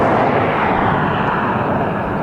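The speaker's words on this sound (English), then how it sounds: "This is a 2-year-old E195 E2 Embraer." Embraer E195-E2 airliner, about two years old, arriving at Dublin Airport: a loud, steady broadband jet roar with no breaks, close by and filling the whole moment.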